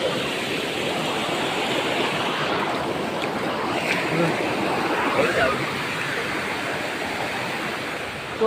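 Deulwadi waterfall in Mangeli, Konkan, flowing as a steady, dense rushing roar that fills the whole clip without a break.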